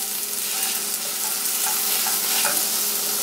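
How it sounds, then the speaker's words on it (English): Spaghetti squash hash brown frying in a hot pan, a steady close sizzle and crackle running the whole time with a few brief scrapes, no voices. "Once the pan is nice and heated, we're gonna drop a little heaping of spaghetti squash in. Allow that to cook and brown for about 2 minutes on each side."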